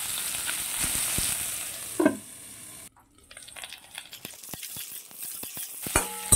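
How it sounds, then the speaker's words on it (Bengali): Potatoes and split pointed gourd sizzle in hot oil, a steady crackling fry broken by stirring scrapes and utensil clinks, dropping quieter midway before the sizzle picks back up. "আলু আর পটলটাকে আরও কিছুক্ষণ খুব ভালো করে ভেজে নেব।"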